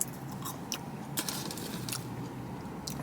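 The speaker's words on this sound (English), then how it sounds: "I'm gonna try their fries" Close, quiet chewing of Five Guys fries, with soft crunchy bites and wet mouth clicks recurring irregularly, with no talking.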